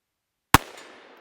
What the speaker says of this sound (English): let's just shoot it one-handed, see if I can hit anything